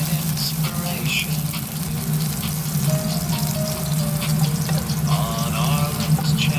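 Garlic sizzles in hot oil, cooked alongside squid, as a steady dense frying hiss that carries on without a break, close and loud.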